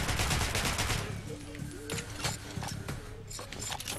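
Hard-kicking gun firing in Metro: Last Light: a dense, loud burst of rapid automatic fire, then scattered heavy single shots and short bursts against a rumbling low-end game backdrop.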